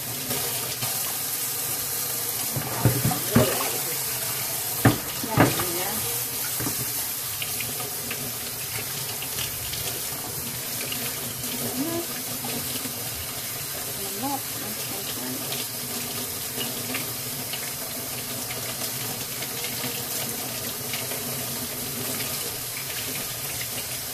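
Tap water running steadily into a sink while a fish is rinsed under it, a continuous close hiss with a few clunks and splashes of handling and no talking.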